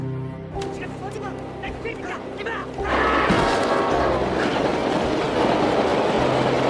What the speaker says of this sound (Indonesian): Kwang Ho tertabrak oleh sebuah kereta.